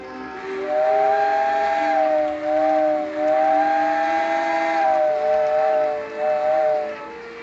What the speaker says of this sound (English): That is a neat sounding whistle.